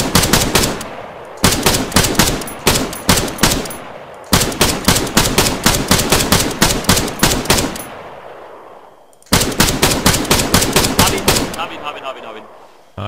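Rapid automatic gunfire in the video game Arma 3 during an Altis Life roleplay robbery, loud repeated bursts of sharp shots separated by short pauses.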